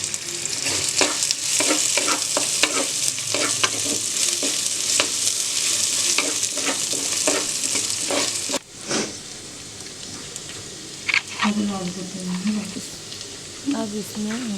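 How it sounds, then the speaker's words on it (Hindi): Finely chopped onion fries in a clay kadai with a loud continuous sizzle and rhythmic stirring scrapes, quieting after about nine seconds as a voice speaks over softer frying. "इसको थोड़ा सा लाइट ब्राउन होने तक भून लेंगे"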